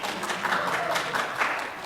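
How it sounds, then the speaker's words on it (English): Steady crowd applause and clapping, a dense wash of many hands that stays loud and even for about two seconds with no talk over it, dropped in as a playful sound effect during a SolidWorks software demonstration. "Come on, crowd,"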